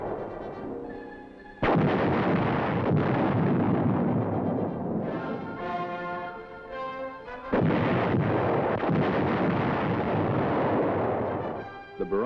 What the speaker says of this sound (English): 105mm howitzers fire in support of the advancing troops.